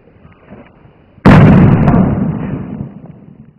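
A small-scale model explosion goes off in a sudden sharp boom that decays over about a second and a half, loud and close against a faint quiet background.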